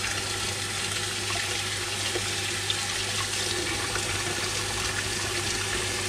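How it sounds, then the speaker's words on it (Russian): Tap water running steadily into a large cooking pot filled to about 15 litres, a continuous even splashing gush throughout, close by with no talk. "Тут литров, наверное, я 15 налил."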